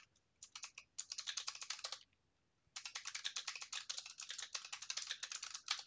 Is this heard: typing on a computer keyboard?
yes